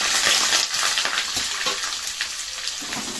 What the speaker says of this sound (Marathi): मी याच्यामध्ये तेजपत्ता घालते आणि हे बघा एक चिरलेला कांदा बारीक